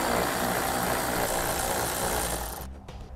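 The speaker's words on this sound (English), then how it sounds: "we now have a similar stud with a 10 millimeter nut on it to remove" A power ratchet runs off a 10 mm nut from a stud while a trailer hitch is installed, with a loud steady buzzing whir up close that cuts off abruptly near the end.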